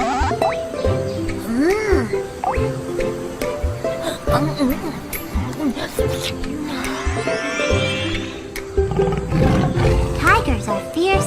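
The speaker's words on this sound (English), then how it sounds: "Tigers are fierce hunters." A tiger in a children's animal learning game lets out repeated loud, close roars and growls in rhythmic bursts, layered with game music and effects.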